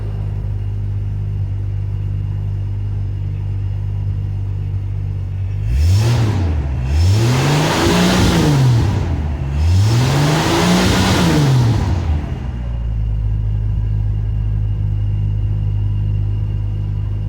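A 1977 Ford F100 long-box pickup engine turns over and revs in two swelling bursts, the pitch sweeping up and down over a steady low idle-like drone, loud and close with no talking.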